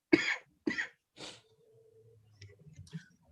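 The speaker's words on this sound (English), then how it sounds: "My coughs are stopping me" Three harsh coughs in quick succession, close to the microphone, followed by quiet clicks and faint breathing.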